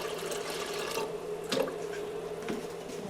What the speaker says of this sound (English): you need to add a couple of inches of water to the bottom of the pot